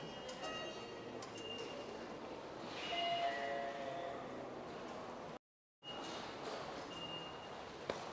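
Steady rumbling rail noise from inside a moving train between Tokyo and Haneda Airport, with faint squeals and a brief dropout partway through.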